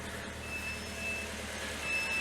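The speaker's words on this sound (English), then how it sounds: "now you see it beeping because it's saying, hey, I'm still connected." A portable jump starter, still connected after the car has started, gives faint, evenly spaced electronic warning beeps over a low background hum.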